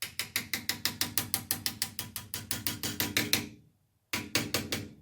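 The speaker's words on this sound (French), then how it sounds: "Alors j'ai pris mon petit marteau à planir." Rapid, steady hammer blows from a small planishing hammer bending metal clamped in a vise, about three strikes per second, loud and close, with a brief pause before the hammering resumes.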